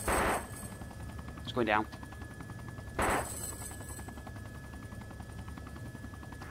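Two sharp gunshots from an M24 sniper rifle in the DayZ game, roughly three seconds apart, moderately loud over a steady in-game hum, with a brief voice speaking in between.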